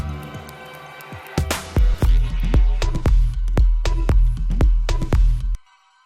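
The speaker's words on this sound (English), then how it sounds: "It's almost like a shimmering, sort of tingly kind of sound." A looped, glittering synth texture with sharp rhythmic hits over a low pulsing bed, shimmering and bright, cutting off abruptly near the end.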